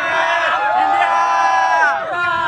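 Cricket fans celebrating India's batting yell and chant together in a loud, close crowd, with excited voices rising and falling over a dense babble.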